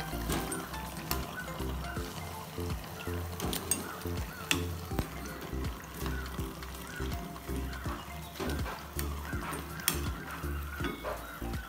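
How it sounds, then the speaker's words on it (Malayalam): Potato vada (aloo vada) deep-frying in hot oil, a steady close sizzle with rhythmic low thumps from a repeating background pattern and occasional sharp clinks, no talking. "അങ്ങനെ ഓയിലൊന്നും കുടിക്കാതെ ഒരു ഇത് വടയാണിത് നമുക്ക് ബാക്കിയും കൂടി വറുക്കാം"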